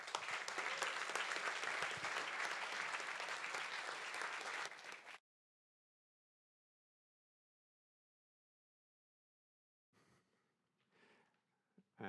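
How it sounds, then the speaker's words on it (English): Audience at a Speck&Tech tech meetup applauding a speaker: dense, loud clapping for about five seconds that stops abruptly, followed by silence and then faint sounds near the end. "Big round of applause."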